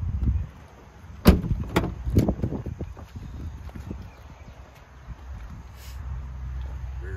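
A Ram 1500 pickup's rear passenger door is handled nearby: a few sharp knocks and thuds early on, then quieter shuffling and a soft low rumble.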